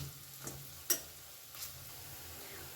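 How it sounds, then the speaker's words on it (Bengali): Soft, steady sizzling of oil in a pan as lentil fritters fry, low and continuous, with a couple of faint clicks and a light stir. "উল্টে পাল্টে বেশ ভালো করে লাল করে ভেজে নেব"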